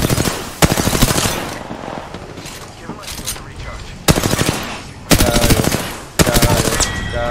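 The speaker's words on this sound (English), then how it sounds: "they're just shooting from the other side" Rapid automatic gunfire rattles in loud bursts during a video game shootout, with several long sustained volleys and short gaps, close and dominant over faint background.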